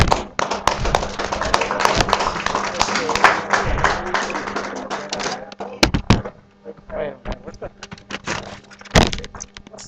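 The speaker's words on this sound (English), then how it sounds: "a big round of applause, please, for Malek" Live audience at an open mic stand-up show bursting into dense clapping and cheering as comedian Malek is called up, the applause loud for about five seconds before thinning into scattered claps and a few sharp knocks.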